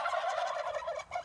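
Turkeys on a farm gobble in a rapid, warbling chorus, several birds at once, fairly close and continuous with a brief dip before a last call.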